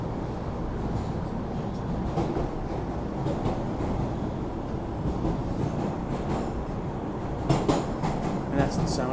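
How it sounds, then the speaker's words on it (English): Passing train heard from a sidewalk, a steady rumbling roar that builds with rattling clatter toward the end, moderately loud and continuous, with no talk over it. "that's the sound of the train"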